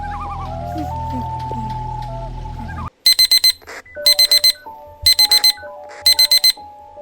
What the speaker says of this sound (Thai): ฉันเหมือนได้ยินเสียงนาฬิกาปลุกนะเนี่ย